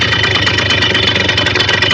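A Simson S51 moped engine idles loudly and close, its steady chugging rhythm running low and rough, nearly stalling as the fuel injector fails to open.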